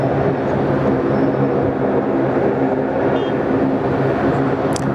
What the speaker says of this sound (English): A330-200 for Philippine Airlines